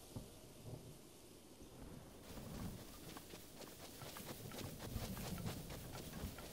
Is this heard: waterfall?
no